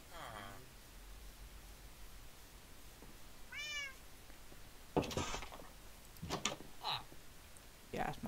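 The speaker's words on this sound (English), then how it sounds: "Was that my cat that meowed?" A pet cat meows twice nearby indoors: a short, faint mew early on, then a clearer rising-and-falling meow. Soft rustling and louder bumps follow, and a person talks briefly in the background.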